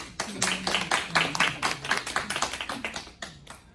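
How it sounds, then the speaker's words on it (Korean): A church congregation gives welcoming applause to a newcomer, a short burst of scattered handclaps from a small group, moderately close, with some low voices underneath. "환영의 박수"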